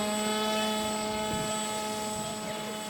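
A homemade radio-controlled air boat built on a Lidl body board, planing across water with its propeller engine droning steadily in a high, buzzing whine at a moderate distance.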